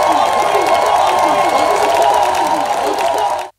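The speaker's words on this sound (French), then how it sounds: "Let us clap to Jesus." A church audience claps and cheers for Jesus, a loud, dense wash of applause and voices that holds steady and then cuts off abruptly at the end.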